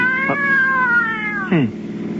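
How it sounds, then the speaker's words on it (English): A cat gives a loud, close, drawn-out meow that slides down in pitch, then a second short, falling cry, with no talking over it. "One of the cats is in the car."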